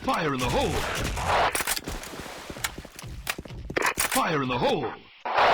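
Rapid M4 rifle bursts crackle in the online shooter Special Force, sharp repeated shots and footsteps in game, while someone talks over much of the action.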